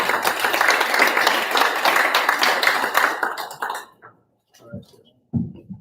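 Applause from a luncheon audience after being called for, a dense burst of clapping for about four seconds that thins out into a few scattered claps and then stops, with some talk near the end.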